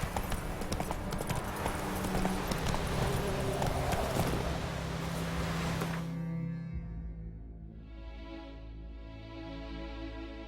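Roach the horse's hooves clip-clop in Witcher 3, a steady trotting rhythm under game music that cuts off partway through, leaving quieter hoofbeats and ambience.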